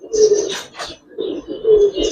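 A Giribaz pigeon coos close by in two low, throaty phrases separated by a short pause, with faint higher chatter from other birds in the background.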